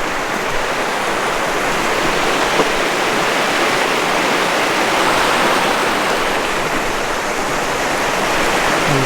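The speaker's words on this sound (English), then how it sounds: "Get refreshed with water from the river, so they're probably not just standing water, no, it's all flowing" River water pours over rocky steps in West Devon, a dense, continuous broadband rush that stays loud and even throughout with no voices.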